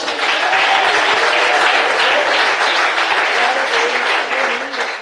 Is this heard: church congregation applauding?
yes